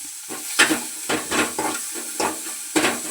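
Onion frying in a pan for butter Maggi, a steady close sizzle broken by repeated scraping stirs at uneven intervals, with no voices.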